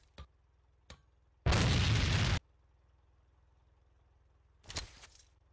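A grenade blast in the video game A.V.A, one loud burst of roughly a second, with a smaller thump near the end and faint clicks before it, in a tank escort mode.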